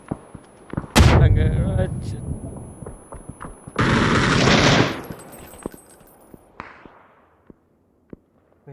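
Bursts of PUBG video game gunfire, two loud sustained volleys and a shorter one, with scattered single shots, and someone speaking between them.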